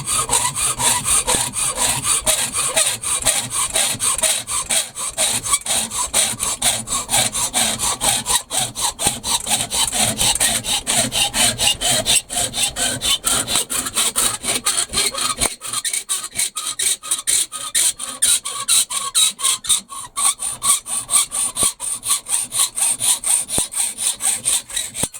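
Hand saw cutting a piece of aluminium clamped in a vise in a shed, steady rasping back-and-forth strokes throughout, loud and close with no talk.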